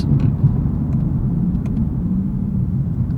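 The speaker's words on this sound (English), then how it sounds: "I love this naturally aspirated V8" A 2023 Lexus IS500's naturally aspirated V8 drones steadily from inside the cabin while driving, a loud low rumble that stays even throughout with no speech over it.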